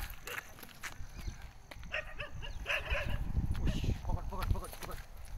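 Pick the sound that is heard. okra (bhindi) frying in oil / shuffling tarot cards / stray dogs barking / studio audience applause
stray dogs barking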